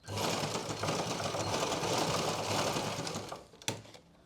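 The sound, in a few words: sewing machine stitching pant elastic gap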